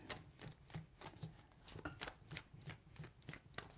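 A deck of tarot cards being shuffled by hand, quiet close riffling and tapping in a quick repeated rhythm of short bursts, with no talking.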